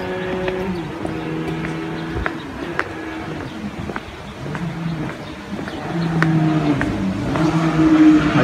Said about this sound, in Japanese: バイクがうるさいですね